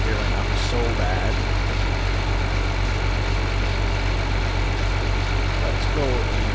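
A small tractor's engine in Farming Simulator 2013 hums steadily, with a low continuous drone and a constant rumble, and faint bits of other game sounds over it.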